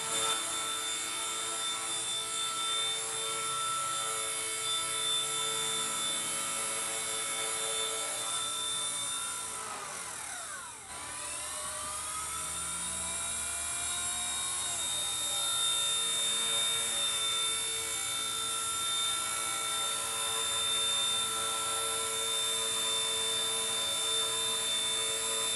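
A small MCPX micro RC helicopter fitted with homemade training gear hovers steadily, its high rotor and motor whine continuous and close, with a brief pitch dip and drop in level midway before the steady whine resumes.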